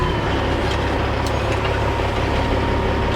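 A truck engine runs steadily and close by for the whole stretch, a continuous low rumble with a broad hiss above it while the driver moves around an obstruction on the road.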